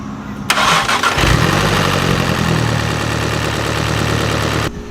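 A vehicle engine cranks and catches, then settles into a loud, close, uneven idle that runs rough and choppy, with a steady low rumble throughout and no talking.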